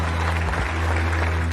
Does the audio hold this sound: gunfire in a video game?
no